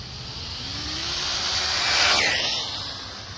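Wltoys brushless RC car on 3S running at full throttle with tires spinning on a dusty construction patch, a whining motor sweep that swells to a peak mid-clip and fades, close and alone.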